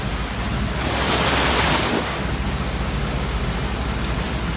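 Ocean surf and gusting wind roar during Hurricane Florence as a vehicle drives along a flooded beach, a loud steady broadband wash swelling for about a second in the middle, with no voices.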